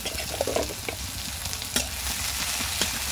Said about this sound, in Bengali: পেঁয়াজ আর রসুনটা খুব ভালো করে ভেজে নেব।